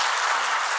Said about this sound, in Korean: 우리 격려의 박수, 축하의 박수 한번 드리겠습니다.